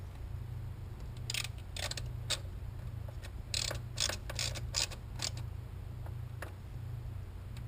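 Throttle body bolts on a 2007 Cadillac Escalade with a 6.2L V8 being snugged down by hand, heard as quiet bursts of clicking ratchet strokes in an irregular rhythm against a low steady hum.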